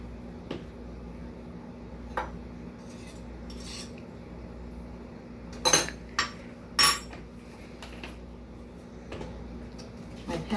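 Measuring spoon and spice containers clinking in a kitchen while cayenne pepper is measured for pizza seasoning, with a few sharp close metallic clinks and taps over a quiet background.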